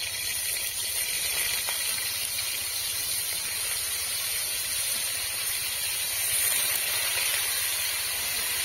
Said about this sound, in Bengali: তেলটা গরম হয়ে গেছে। এখন আমি ফুলকপিগুলো আস্তে আস্তে দিয়ে দিচ্ছি।